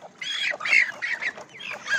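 One-and-a-half-month-old chicks at an outdoor poultry market, a dense chorus of high chirps and peeps in quick overlapping bursts, close and fairly loud.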